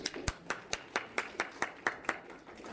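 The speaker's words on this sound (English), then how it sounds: "Give them a round of applause." Small round of applause at a community meeting: a dozen sharp, evenly spaced hand claps from what sounds like just a few people, close by and fairly quiet, with no talk over them.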